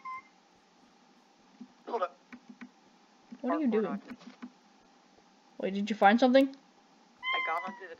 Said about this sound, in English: That's my cat. He kind of wants attention.